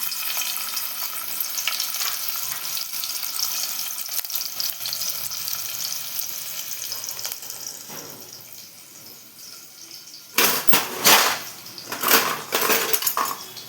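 A little onion frying in hot oil for a Malvani rava-fried surmai dish, a steady close sizzle that dips briefly before bursts of loud scraping and clattering pan noise, with no one talking.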